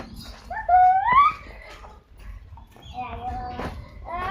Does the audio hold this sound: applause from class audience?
no